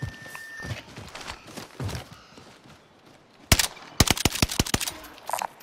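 Gunfire in a Warzone battle royale match, a burst of sharp shots after muffled background movement, then a rapid volley of loud cracks close by, with a faint tone early on.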